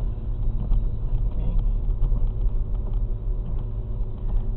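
Interior rumble of a car crawling under 20 mph in third gear on a snowy road, a steady low engine drone and road noise heard from inside the cabin, continuous and fairly muffled.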